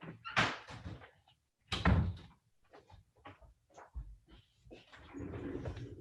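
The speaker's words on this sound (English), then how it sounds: "Let me shut the door first." A door is pushed shut indoors, giving two solid thumps about a second apart, then quieter handling sounds and faint background noise.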